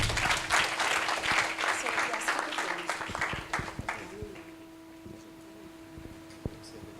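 Audience clapping at a fellowship closing ceremony, a full burst of many hands that thins out and fades to a few stray claps within a few seconds, with a tonal hum lingering after.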